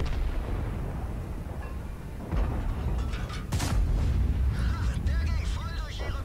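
Artillery fire in a video game: repeated heavy booms and bursts over continuous battle noise, with a sharp loud blast midway, while people talk over it.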